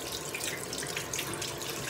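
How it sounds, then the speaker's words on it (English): Water running steadily from a sink tap, a close, constant rushing and splashing stream with no talking. "So let's get our water temperature right."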